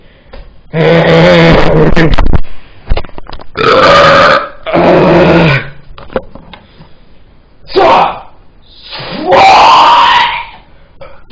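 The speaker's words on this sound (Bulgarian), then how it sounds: "Това оригването говори" Loud, drawn-out belches come one after another in a string of five, each a long throaty burst with short pauses between them.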